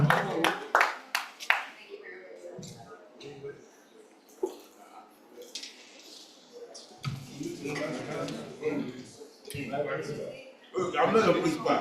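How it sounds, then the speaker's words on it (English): Scattered clapping from gentlemen of a Bridge Club honoring a woman at a special event, a few sharp claps early, then uneven applause mixed with murmuring voices and room chatter. "give her our flowers by giving her a round of applause"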